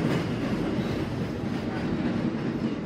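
A Boston Red Line subway train runs near Fort Point Channel, producing a loud, steady rumble with a continuous rolling roar and no pauses.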